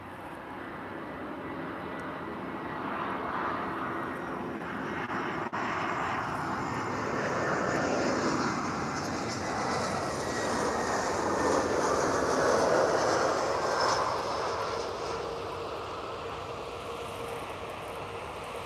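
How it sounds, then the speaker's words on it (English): Brussels Airlines airliner in Star Alliance livery landing at Lisbon airport, a sustained jet engine roar heard from a distance that swells slowly and then eases off. "Brussels Airlines with a Star Alliance livery landing in Lisbon."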